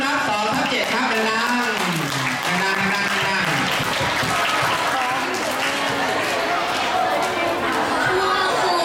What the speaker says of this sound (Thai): ขอเสียงปรบมือต้อนรับ2ทับ7ครับ